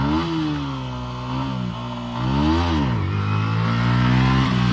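Motorcycle engine revving hard through a wheelie stunt, its pitch swooping up and down in strong surges, close and loud, with no talking over it.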